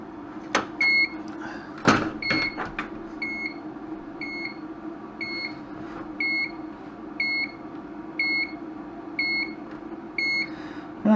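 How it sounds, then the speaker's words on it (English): Constant electronic beeping from a faulty LED dot matrix scrolling sign under repair, regular short tonal beeps repeating about once a second over a low steady hum, with a few sharp clicks and knocks early on. "it appears we've got a constant beeping"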